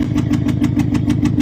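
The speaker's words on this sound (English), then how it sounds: "And my car, when it's running, sounds like this." A faulty Audi S3 engine, with warning lights on and total loss of power, runs rough and loud close by, a steady low lumpy chug pulsing about four or five times a second like a tractor, with no talking.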